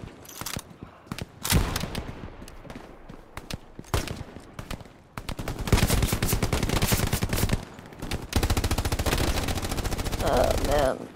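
Gunfire in Hell Let Loose: scattered single shots give way to long bursts of rapid machine-gun fire that hammer steadily for seconds at a time, with a voice speaking in places among the shooting.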